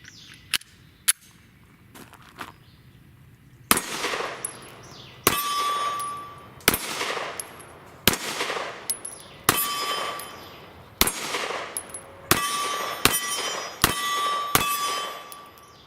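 A Sig Sauer P365 pistol firing Remington 115 grain full metal jacket rounds: about a dozen sharp, loud shots close by. A few are spaced out at first, then they come in a steady run, each with a short ringing decay and no talking.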